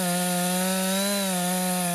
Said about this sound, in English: the forest on the heath must be felled with a chainsaw